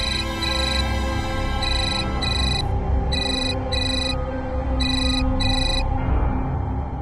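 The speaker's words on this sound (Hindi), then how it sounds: "लगता है मेरा फोन आया" A mobile phone ringtone plays in repeated bright melodic bursts, the pattern cycling several times at moderate volume over a faint background hum.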